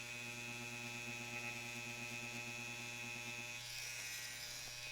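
Tattoo machine buzzing steadily at close range while lining a mandala design, a continuous electric hum with no talking.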